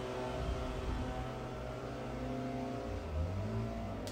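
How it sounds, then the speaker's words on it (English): A leaf blower runs outside as a steady, muffled drone with a low hum and a layered tonal whine, continuous and moderately distant, with no speech. "The blower, oh my God."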